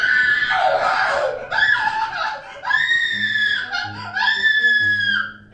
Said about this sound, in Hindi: एक घर से एक लड़की के चिल्लाने की आवाज आती है